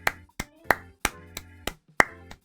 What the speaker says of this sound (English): could we get a round of applause for Alto finally making it back home